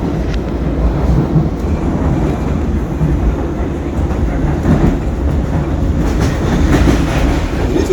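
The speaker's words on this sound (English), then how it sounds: "down again on this DLR towards Poplar" DLR light rail train in London running towards Poplar, with a steady loud rumble and rhythmic clickety-clack of wheels on track heard from on board, without talk.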